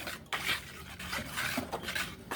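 A whisk scrapes and taps around a bowl, mixing flour, salt and baking powder for biscuit dough, giving quiet, close, rapid rhythmic clinks and scrapes.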